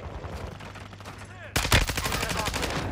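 Chimera assault rifle fire in Warzone Resurgence: a sudden loud burst of rapid automatic shots breaks in halfway through and keeps going, following a quieter stretch of background game noise and faint distant shots.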